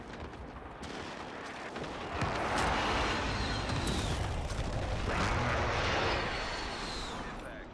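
A cluster strike lands in Call of Duty on Rebirth Island: a loud, sustained rumble of overlapping explosions swells after a couple of seconds and rolls on heavily before easing at the end.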